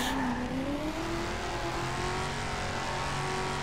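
A car reversing in the video game Just Cause 2, its engine holding a steady rising whine that runs alone and fairly close for a few seconds.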